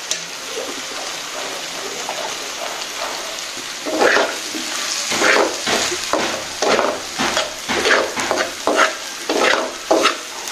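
Okra frying in a pan while being stirred, a hissing sizzle that swells midway into a rhythmic run of scraping strokes, close and fairly loud, with no speech over it.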